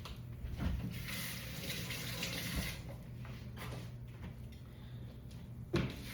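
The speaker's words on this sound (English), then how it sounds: "Wash my hands." Water running from a kitchen tap while hands are washed, a steady broad splashing rush that continues throughout, with a brief clunk near the end.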